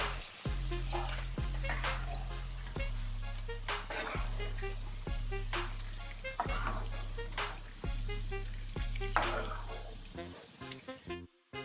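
Calamares deep-frying in hot oil make a steady, close bubbling sizzle. A regular low thumping beat pulses underneath it, and a clatter comes near the end.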